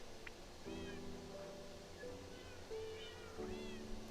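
A house cat meows several times, faint and fairly close, in short drawn-out cries over a low steady background hum.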